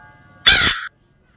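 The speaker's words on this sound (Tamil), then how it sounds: "இங்கே ஒரு காக்கா இருக்குமே கருகருன்னு." A single loud, harsh crow caw in the video game Granny, close and short, standing alone against near silence.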